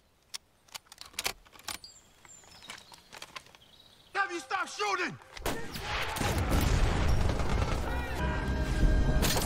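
Gunfire in an action movie scene: scattered sharp shots ring out, a voice calls out, then a dense, sustained barrage of noise builds and carries on loudly.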